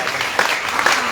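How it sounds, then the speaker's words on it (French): Audience applause at a church gathering in Kananga, a dense wash of clapping with a few sharper peaks, steady throughout the short stretch with no talk over it. "Est-ce qu'on peut applaudir?"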